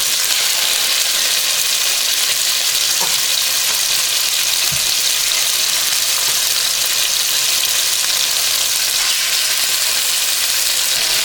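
Steady, loud sizzling of chicken frying in hot oil in a pan, a continuous crackling hiss with no voices.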